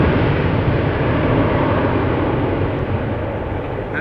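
A Delta Airlines jet takes off from Schiphol's Polderbaan runway, its loud, steady broadband engine roar filling the air and easing off only slightly as it continues.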